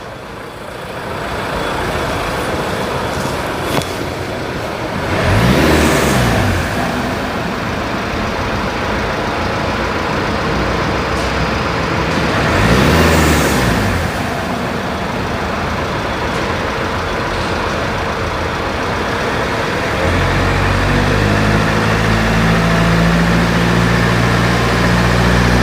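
A warmed-up car engine at about 50 degrees runs steadily during a test, a loud close idle with two brief passing swells and a deeper, heavier tone near the end, no talk.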